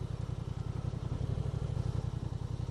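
A Honda Transalp 750 motorcycle turning around on a gravel hill, its engine giving a steady, close, low rumble with faint chatter throughout and no voices.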